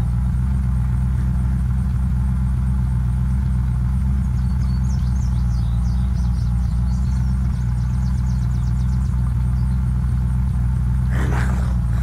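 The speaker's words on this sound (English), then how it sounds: "Right, I have a fire engine." A fire engine idling in the zombie game Unturned gives a steady low mid-range engine rumble throughout, with a brief sharp noise near the end.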